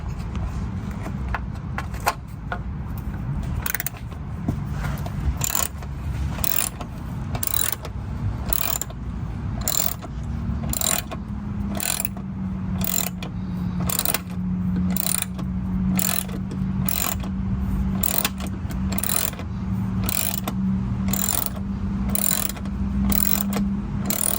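A ratchet wrench loosening 10 mm bolts on a 1999–2000 Honda Civic headlight assembly gives a steady run of rapid, close clicks over a continuous low hum.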